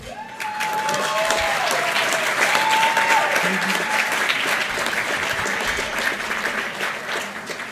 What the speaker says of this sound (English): Please join me in applauding the first winner of our Team Pride Award this evening